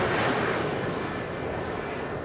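An Embraer jet arriving at Amsterdam Schiphol from Brussels makes a steady, fairly distant broadband roar that fades slightly over a couple of seconds.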